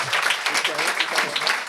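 Applause for Olivier Guimond on a talk show: a short burst of dense, steady clapping heard close, mixed with voices.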